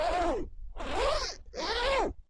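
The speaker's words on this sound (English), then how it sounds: "it's very smooth because this is the PU waterproof zipper" A PU waterproof zipper on an overcoat is pulled in three smooth, even strokes, each a loud close rasping sweep separated by brief pauses.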